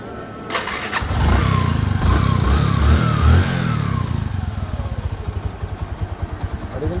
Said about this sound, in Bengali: খুবই সুন্দর ইঞ্জিন সাউন্ড